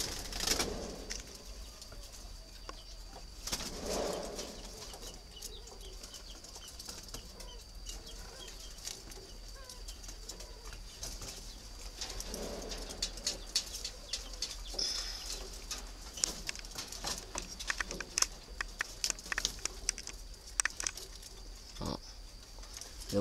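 A large pink-tinged pigeon or dove (chim cu) coos in low soft pulses at close range, with occasional wing flaps and rustling and scattered clicks in a quiet setting.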